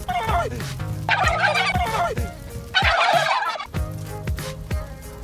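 A turkey in The Sims 3 gobbles in two loud, rapid warbling bursts, each framed by lower in-game sounds, close and clear with no talking.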